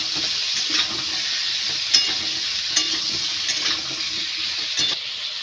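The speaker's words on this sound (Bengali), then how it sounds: "এই তেলের মধ্যে ঝিঙে আর আলুগুলো ভালো করে ভেজে নেব।" Ridge gourd and potato pieces frying in hot oil for a rohu fish and ridge gourd curry, a steady hiss and sizzle with occasional crackles and stirring clinks, close and fairly loud without talk.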